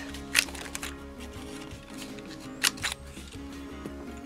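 Scissors round off the corners of a junk mail paper sheet, giving a few sharp, close snips with a crisp paper crunch. The snips are separated by quieter handling and a low steady hum.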